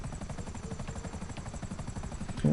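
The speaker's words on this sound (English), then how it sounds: "I am in a fucking helicopter with permanent stealth mode" Helicopter flying in the video game GTA Online, its rotor thumping in a fast, even pulse over a constant engine drone, loud and close the whole time.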